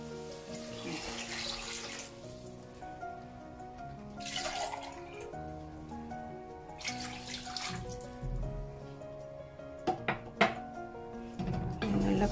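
Water runs and splashes into a pot for tomato rice in a couple of short bursts, with clinks of cookware and a faint voice in the background.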